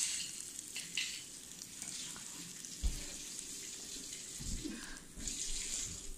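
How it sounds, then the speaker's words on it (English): Chaffle batter with mozzarella poured onto a hot waffle maker, sizzling faintly and steadily with soft wet splats and small bumps. "I'm going to pour half of this mixture in."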